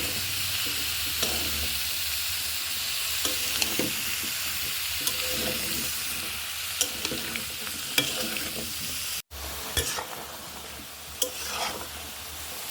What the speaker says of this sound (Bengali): এইবার আমি এই যে মশলার ভিতরে আমি লাউটা কষাই নেব